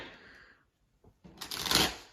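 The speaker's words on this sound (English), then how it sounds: "once I start shuffling the cards" A deck of tarot cards being shuffled: a short soft riffle, a brief pause, then a louder, denser burst of card flutter that builds and then fades, with no talking.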